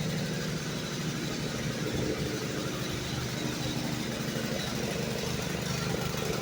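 A DeWalt 3500psi pressure washer's small engine, recovered from a dumpster and running on bad gas, drones steadily and loudly at close range with a continuous rough rumble and no talk over it.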